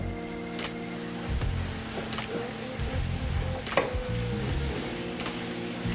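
Quarter cup of all-purpose flour stirred into a sizzling pan mixture for a boozy shepherd's pie, a steady low crackle of frying with occasional scrapes and knocks of the spoon.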